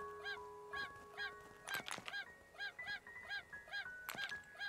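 A chicken in the survival crafting game Craftopia gives a steady run of short, evenly spaced honking clucks, with a few sharp thuds and clicks mixed in. The sound is quiet and close, with no talk.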